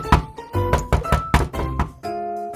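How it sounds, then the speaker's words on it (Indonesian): Someone knocks on a classroom door in a string of loud, hollow thuds in uneven bursts, while a sustained musical tone rings underneath them. "itu nanti pintu kita rusak diketok terus"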